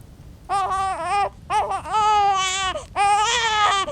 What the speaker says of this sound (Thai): เสียงเด็กร้องจ้าตามมา